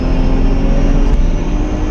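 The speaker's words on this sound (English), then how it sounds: "when the supercharger comes on to power, we're getting onto the highway now, it has more of a jet type sound, turbine type sound" A RIPP-supercharged Dodge Challenger V6 on the highway gives a loud, steady jet-like whine over the engine drone, a continuous close roar with no breaks.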